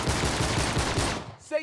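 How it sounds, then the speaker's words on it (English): Rapid automatic gunfire in an Uncharted multiplayer map, dense repeated shots for over a second, loud and close, then cutting off into a brief faint tone. "the shooting's actually fairly loud, and I don't think my voice will go over the shooting"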